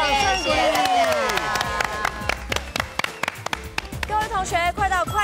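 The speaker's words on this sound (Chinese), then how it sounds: "掌声鼓励" A studio class claps for the teacher of a sexy jazz dance session, with a burst of crisp hand claps and cheering spread over upbeat music and voices.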